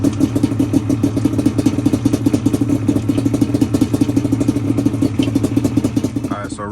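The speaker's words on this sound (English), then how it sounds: "I'm gonna crank up the bike, let it get warm for a second" A Yamaha Banshee two-stroke dirt quad engine idles steadily up close, a loud, continuous rattling putter with slight fluctuations, running alone throughout.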